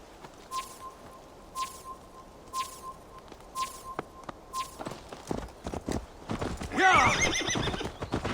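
In the video game Assassin's Creed Valhalla, horse hooves clip-clop in a steady walking rhythm, then a loud, shrill neigh rises near the end, with a few faint background noises.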